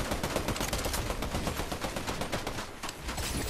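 Rapid, dense gunfire from a Fortnite match, a continuous loud burst of overlapping automatic shots filling the whole stretch with barely a pause.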